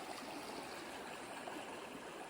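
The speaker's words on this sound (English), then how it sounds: "You can see the creek is pretty deep and flowing." A creek running deep and clear with snow runoff in Olympic National Park gives a steady, soft rushing wash of water, unbroken and fairly distant, with no voices.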